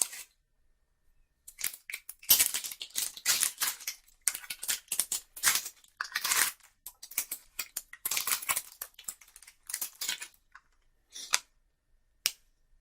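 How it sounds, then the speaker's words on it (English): Crinkling and tearing of the foil wrapper on a Magic: The Gathering Unstable booster pack, sharp papery rustles in bursts, close and fairly loud, with brief pauses and no talking. "Let's get nutty and open up this pack of Unstable."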